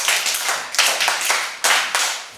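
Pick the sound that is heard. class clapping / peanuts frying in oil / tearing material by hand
class clapping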